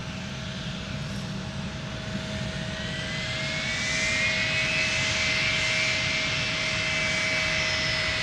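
A fixed-wing airliner taxis at Minneapolis–Saint Paul airport, its engines giving a steady close roar with a sustained whine that rises slightly in level midway through.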